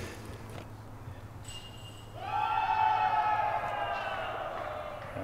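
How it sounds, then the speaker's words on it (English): Cheering from a gallery of spectators for an ace on hole 9 during a disc golf round, a distant swelling roar with whoops that rises suddenly partway through and lingers, heard outdoors under faint background noise. "all that cheering you just heard there, unfortunately, might have razzed Herm a bit"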